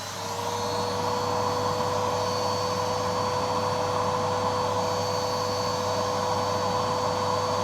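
A Numatic vacuum cleaner runs continuously under hard suction as a loud, steady motor roar with a constant whine. No pauses or speech break the sound.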